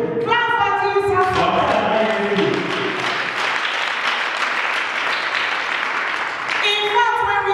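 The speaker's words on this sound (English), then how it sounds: "Clap for Jesus." A church congregation claps loudly and steadily in praise during a sermon, a thick wash of many hands, with sustained tonal voices or music at the start and returning near the end.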